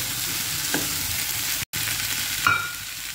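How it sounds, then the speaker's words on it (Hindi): Chopped onion crackles and sizzles steadily as it roasts in a pan with moth beans for a healthy breakfast chaat. A couple of brief utensil scrapes come through the frying, and nobody speaks. "अब मैं यहाँ पे डाल देती हूँ ऑनियन, भी क्रंची होने तक भुनेंगे, एक आधा मिनट के लिए भुनेंगे।"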